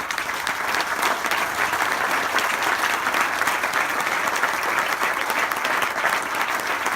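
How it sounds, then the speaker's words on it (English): Outdoor crowd applause at a World War I centennial historical marker unveiling in Michigan, a full, steady round of clapping from many people that carries on for several seconds. "Let's give them a round of applause."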